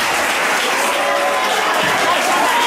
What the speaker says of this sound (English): come on, clap, clap, put your hands together.